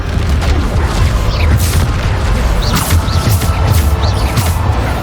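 Bombarda explosion spell cast in the video game Hogwarts Legacy, a loud, close string of booming blasts over continuous heavy rumble, with bright crackling bursts recurring roughly every second throughout.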